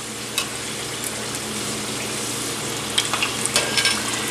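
Pieces of deep-fried cheesecake bubble in hot oil with a continuous close sizzle, joined near the end by a few light clinks and scrapes as they are stirred around; no one speaks.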